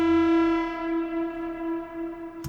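A Moog synthesizer plays a momentary tone drenched in heavy reverb. It holds as one bright, sustained pitch with rich overtones that slowly fade into a wash, and a short click sounds near the end.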